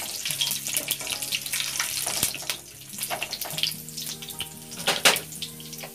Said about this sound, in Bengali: তেজপাতা, লবঙ্গ, গোলমরিচ, সাহাজিরে, জিরে, যত ধরনের আস্ত মশলাগুলা সেগুলো আমরা এভাবে তেলের সাথে একটু ভেজে নেব।